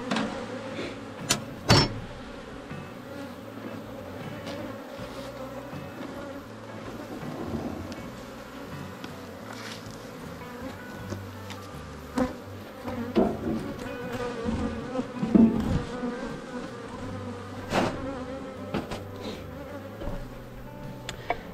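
A Buckfast honeybee colony humming inside its hive, a steady low droning buzz heard up close, with occasional knocks and handling bumps on top.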